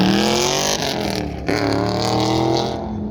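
A pro touring truck runs an autocross lap at a truck shootout, its engine note roaring loud and steady, pitch sweeping up and down through the turns, with no voices over it.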